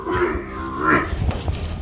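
Cattle on a Punjabi dairy farm with buffalo and cows: a single long, loud, close moo swelling and falling in pitch, followed by softer farmyard rustling and shuffling, with no talk.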